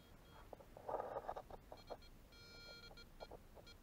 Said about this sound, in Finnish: nyt täältä kuulokkeesta kuuluu tämä piip